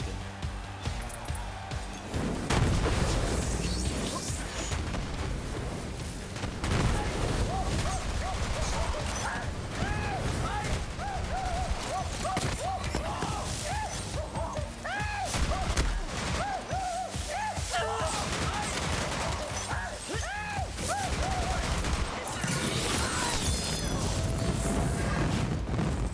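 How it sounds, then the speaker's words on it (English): Rapid gunfire and shock-weapon blasts from Borderlands 3, played as Amara, crackle in dense, continuous bursts with explosive booms over a loud, busy game soundtrack for the whole stretch. "And shoot him again"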